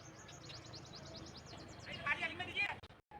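Faint chirping and twittering of small birds outdoors, with a few brighter calls near the end, under quiet background noise.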